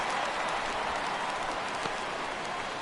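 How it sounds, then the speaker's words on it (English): Simulated baseball stadium crowd in MLB The Show 17 during a Braves vs Mets game, a steady dense roar of cheering and murmur that holds at an even level throughout, with no clear talk over it. "Crowd gets up for the 3-2."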